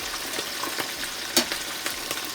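Lane snapper and parrot fish fry in hot oil in a pot, a steady soft sizzle with occasional small pops and crackles, close and alone without voices.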